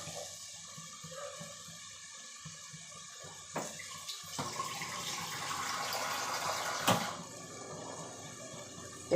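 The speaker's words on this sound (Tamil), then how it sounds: "தேவையான அளவு தண்ணி கலந்துக்கிறோம்" Water runs and splashes steadily into a pot of chickpea masala curry, rising in volume midway, faint and alone with no talking.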